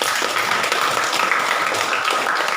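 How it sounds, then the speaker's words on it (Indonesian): Students clapping together in a classroom, a dense, loud, continuous patter of many hands filling the whole stretch. "Mari tepuk tangan untuk kita semua"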